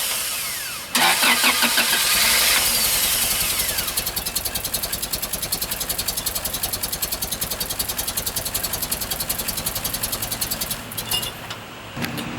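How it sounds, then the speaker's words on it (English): A Toyota Celica with fresh spark plugs, suspected of flooding with too much gasoline, cranks with a rapid rhythmic chugging of the starter, catches roughly, and keeps up a loud uneven pulsing as if firing on only one or two cylinders. "I'll try to start the car again and we'll see what happens."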